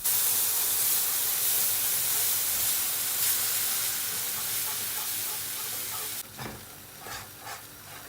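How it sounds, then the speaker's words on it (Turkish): Loud, steady sizzling of a sunflower oil and flour roux in a pan, suddenly quieting as milk is poured in, followed by softer bubbling and a few stirring scrapes. "Un kokusu geldiğinde süt ile açıyorum."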